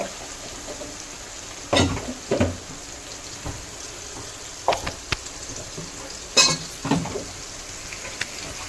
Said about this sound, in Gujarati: ટમેટા નાખીએ એટલે થોડું ઉડે તો સરસ છે